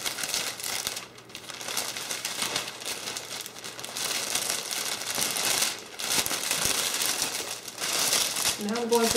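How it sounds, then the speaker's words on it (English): Cellophane wrapping on a fall gift basket crinkles and rustles continuously as it is gathered up over the basket handle, close and fairly steady, with brief quieter moments. "I'm just gathering the cellophane over the top of the handle"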